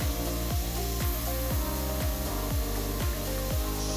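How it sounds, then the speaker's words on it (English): A milling machine cuts away metal for balisong scissors, a loud repeating machining pass with a regular rhythm of strokes roughly every half second over a dense mechanical drone. "First, I mill away the extra material."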